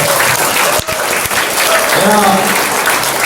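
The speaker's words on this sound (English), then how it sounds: "give a round of applause" A crowd at an Andrew Yang campaign rally in Detroit claps in steady, dense applause throughout, with a voice speaking over the clapping.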